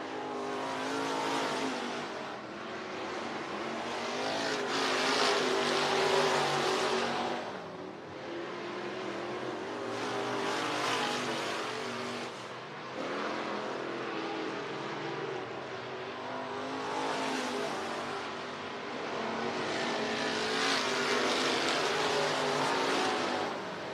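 IRNCA Sport Mod race cars roar around a speedway during qualifying, engines surging and fading in repeated waves as the field passes, heard from a distance with no talk.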